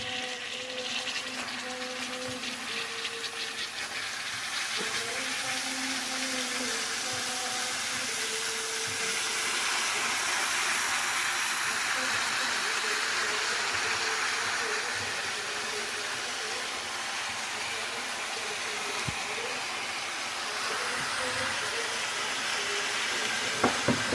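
Radish greens frying in a pan with panch phoron, green chili and garlic, giving a steady broad sizzle throughout with occasional soft clicks, close and moderately loud, no talking.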